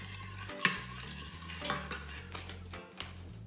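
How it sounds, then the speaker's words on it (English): Beef stew ingredients, cream of mushroom soup and diced onion, being mixed in an Instant Pot, with a few light spoon scrapes and taps against the pot over a quiet background. "mix everything again."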